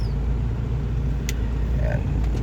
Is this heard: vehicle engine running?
yes